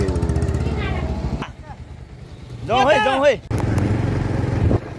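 Motorbikes ride on a rural hill road, engines droning close by, with a brief pause and then a rising higher-pitched revving pass before the steady engine noise returns; people talk faintly over it.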